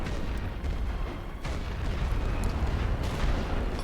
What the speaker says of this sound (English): Oh, that's an anti-air cannon.